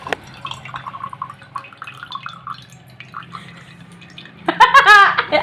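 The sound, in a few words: coconut water being poured out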